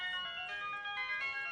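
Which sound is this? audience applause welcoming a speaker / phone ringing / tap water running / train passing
phone ringing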